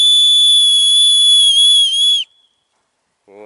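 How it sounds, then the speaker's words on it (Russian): An old police whistle blown hard in one long, piercing, very loud steady blast of about two seconds, ending abruptly, followed by a short burst of speech. "Вот так вот сотрудники полиции раньше свистели."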